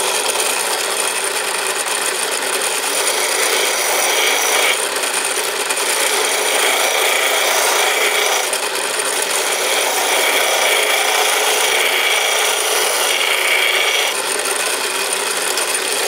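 Steady rasping of a conventional hand file worked along the groove of a homemade grooved pulley, a continuous close, gritty scraping that holds an even level with slight stroke variations and no talking.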